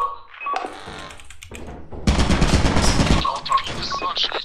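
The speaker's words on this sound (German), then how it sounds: "Auf einmal schießt da irgend sowas durch den Gang und auf einmal werde ich angeschossen" A loud burst of rapid automatic gunfire rips through a corridor in the game Lethal Company, lasting about a second, with a voice talking around it.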